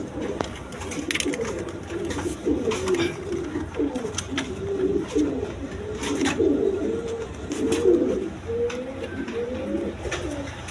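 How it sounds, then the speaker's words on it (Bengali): A pair of pigeons coo close by in repeated throaty, rolling phrases, one call after another, over a faint background hum. "দর্শকবৃন্দ এখানে এক পেয়ার কবুতর আছে"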